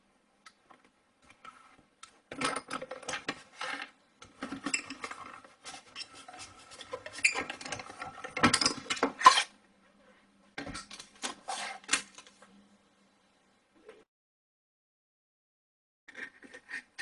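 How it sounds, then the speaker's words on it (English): Paper being cranked through a small Mini cut and embossing machine, producing clustered ticking and rattling mechanical clicks in bursts with short gaps, close and moderately quiet. "I'm just going to run this through my cut and embossing machine."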